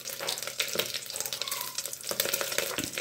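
Cumin crackles and sizzles in melted butter in a pan, a steady close fizz with small pops and occasional stirring scrapes.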